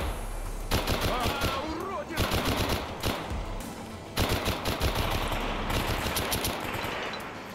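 Bursts of 7.62 rifle fire in the video game S.T.A.L.K.E.R. Anomaly crack out in rapid automatic strings, several volleys separated by brief pauses, loud and close.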